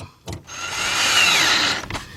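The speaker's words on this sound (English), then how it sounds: "we're gonna take our 10mm on our cordless drill, and we're gonna go ahead, make sure this seat is down, and tighten them all up" Cordless drill fitted with a 10mm socket runs up to speed and tightens a bolt during an Infiniti G20 / Nissan Altima fuel pump replacement, one steady whirring run of about a second and a half, loud and close, with brief knocks before and after.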